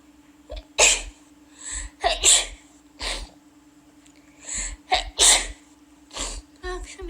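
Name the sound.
sneeze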